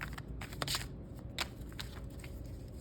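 Tarot cards shuffled in several quick riffling bursts, soft and close, over a low steady background hum.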